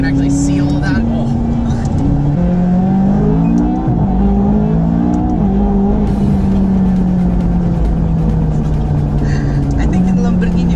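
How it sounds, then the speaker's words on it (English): A McLaren with a straight-pipe exhaust and its engine cover removed revs hard and close, its pitch rising and falling in loud sweeps. People talk over the engine. "Ridiculous with the straight pipe exhaust, especially with the engine bay removed"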